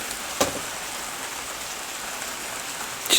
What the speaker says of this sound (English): Do you know there's something very mesmeric, isn't there, about the rain?